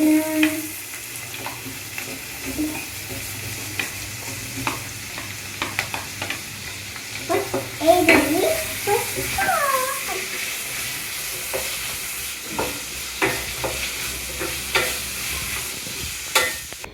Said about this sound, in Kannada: ಈರುಳ್ಳಿ ಫ್ರೈ ಮಾಡ್ತಾ ಒಂದು ಸ್ವಲ್ಪ ಉಪ್ಪನ್ನು ಕೂಡ ಹಾಕ್ಕೊಂಡೆ